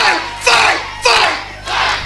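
A live wrestling crowd at an FCW Empire event in Dundee roars and shouts in three loud, surging waves, a dense mass of voices swelling and dipping.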